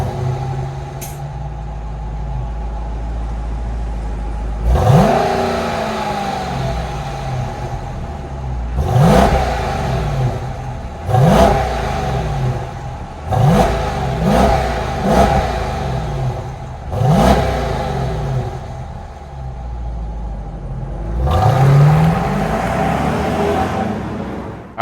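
A 2023 Jeep Grand Cherokee Summit's 5.7-liter HEMI V8 idling, then blipped through a series of about eight sharp, loud revs with drops back to a low rumble between them, heard up close with no talk.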